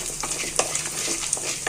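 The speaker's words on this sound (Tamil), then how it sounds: "கடலைப்பருப்பு, காஞ்ச மிளகாய், தனியா இது நம்ம வறுத்துப்போம் முதல்ல" Chana dal, dried chillies and coriander seeds dry-roast in a pan, giving a soft continuous rustle and hiss with light, irregular stirring scrapes and ticks.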